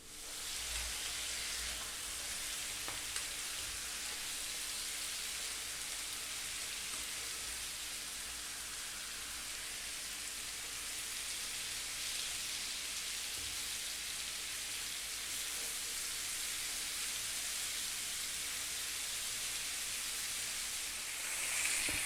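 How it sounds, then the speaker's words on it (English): Lamb chops fry in a hot pan with a steady, dense sizzle that runs unbroken and fairly loud for the whole stretch, with no voices over it. "Now I'm going to cook these for about, for me, 8 minutes."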